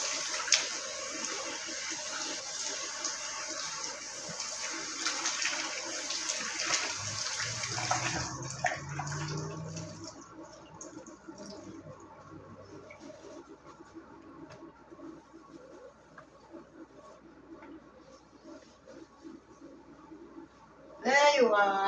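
Tap water runs steadily while soap is rinsed out of a container during chapati making, a broad wash of splashing that thins out midway, then fades to a quieter trickle with a short burst of clatter near the end.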